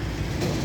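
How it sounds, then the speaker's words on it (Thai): A train passes beside a restaurant near the railway in Prachuap, Thailand, giving a brief, steady, close rumble with a broad rolling roar. "นี่ฮะวิวดีมากรถไฟเห็นไหมคะ"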